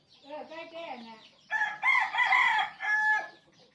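Free-ranging bantam chickens cluck softly, then one crows loudly and close by in a long, drawn-out call.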